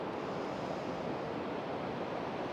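Ocean waves wash onto a beach, a steady broadband rush of surf with some wind, continuous and fairly soft, with no voices.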